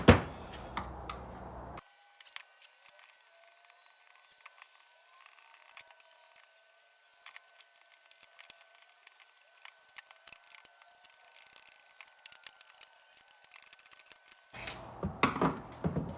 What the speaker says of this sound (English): now I'm just going to pull these 1, 2, 3, 4, 5, 6 screws out